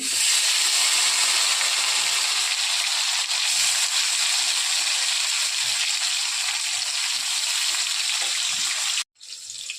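Chopped tomato goes into hot mustard oil tempered with nigella seeds for a Bengali chitol fish chorchori. It makes a loud, steady, close sizzling hiss that continues unbroken before a brief cut near the end.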